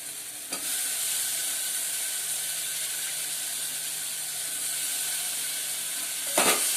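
Dried fish fries in a pan with a steady, close sizzling hiss that holds throughout, broken by a clattering knock near the start and another near the end, and no voices.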